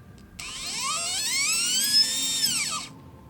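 FPV drone motor spins up alone with a rising high-pitched electric whine, holds briefly, then winds down. It sounds close and clear with a slightly rough, buzzy edge.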